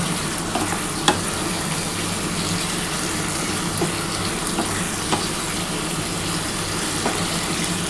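Spicy Bengali egg curry is stir-fried in a pan, giving a loud continuous sizzle with occasional spatula clicks and scrapes, close and steady throughout.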